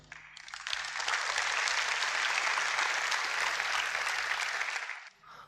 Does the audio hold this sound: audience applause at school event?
yes